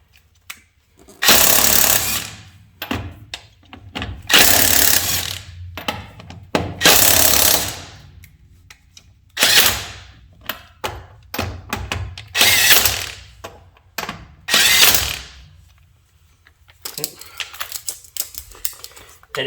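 A tool breaks the lug nuts loose on a truck wheel in short, loud mechanical bursts. Around seven rattling bursts come close up, separated by brief pauses.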